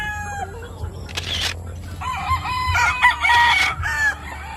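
A Sweater Grey gamefowl rooster, yellow-legged with black spurs, crows loudly nearby, a few clucks and faint background noise around the call, no voices.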